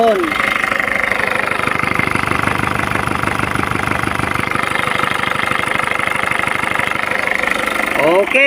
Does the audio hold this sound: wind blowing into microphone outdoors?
no